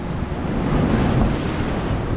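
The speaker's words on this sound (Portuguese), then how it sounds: "Olha o mar como tá rente com essas pedras aí" Sea waves surge against the rocks at Boa Viagem beach in Recife, a loud, continuous roaring wash heavily buffeted by wind noise on the microphone, with no voices.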